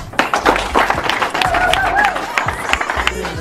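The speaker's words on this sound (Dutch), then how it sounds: "En dat is een applaus weer voor jullie zelf." A crowd applauds at an outdoor music competition day, with a burst of mid-level clapping and a bit of cheering in a lively open-air setting.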